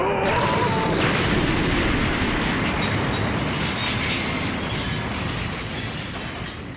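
A Buggy ball cannon blast from the One Piece anime: a loud, broad explosive roar that rumbles on for several seconds and slowly fades.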